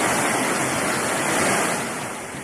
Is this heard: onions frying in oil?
no